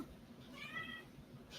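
A house cat meows once indoors, a soft, drawn-out call heard at close range over a quiet room.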